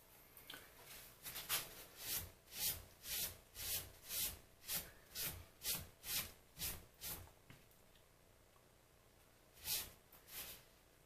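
Repeated rhythmic rubbing strokes of a hand file or scraper deburring a metal part, about a dozen even back-and-forth passes, close and fairly loud, with two more strokes after a brief pause.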